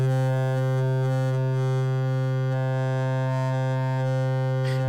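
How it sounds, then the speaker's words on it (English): A wavetable synth pad from Phase Plant, with delay and reverb, holds a sustained rich harmonic chord that slowly evolves in timbre, steady and alone for several seconds. "So this so far sounds like this with a little bit of delay and reverb on it."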